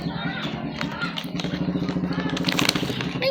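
Motorcycles pass close by with a throbbing engine rumble that pulses steadily and grows slightly louder toward the end, while people talk over it.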